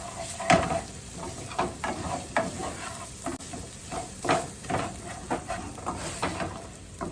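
Seasoned breakfast food is stirred and mixed in a hot pan, a steady sizzle broken by repeated scraping strokes in an uneven rhythm, close and fairly quiet, with no talking.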